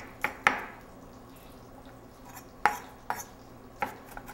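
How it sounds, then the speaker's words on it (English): A knife roughly chopping an onion on a cutting board in a home kitchen, heard as about six sharp, separate cuts, two close together at first, then sparse knocks after a pause, with no talking. "going down the front of the onion, 1/4-inch pieces, and then just giving it a nice rough chop"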